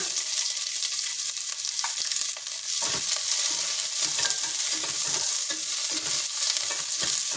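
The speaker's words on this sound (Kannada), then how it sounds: "ಈರುಳ್ಳಿ ಈ ಥರ ಸ್ವಲ್ಪ ದೊಡ್ಡದಾಗೆ ಕಟ್ ಮಾಡ್ಕೊಂಡಿದ್ದೀನಿ ಇದನ್ನು ಬಾಡಿಸ್ಕೊಳ್ಳೋಣ" Thick-cut onions sautéing in a pan give a loud, bright, continuous sizzle with a brief dip and then rhythmic stirring scrapes, heard up close with no one speaking.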